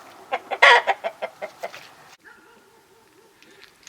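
Hens cluck in a coop as a new hen joins the flock, a run of loud, close rhythmic clucks fading into softer, quieter calls.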